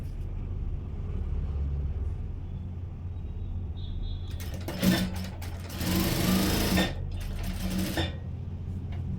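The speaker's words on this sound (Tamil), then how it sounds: "தையல் போடும்போது இப்படி ஓரமாக தையல் போட்டிங்கன்னா தான் நல்லாயிருக்கும்" A sewing machine stitches the fall onto a saree edge, starting with soft ticking, then bursting into loud, close whirring runs in two stretches over a steady low hum, with short pauses between.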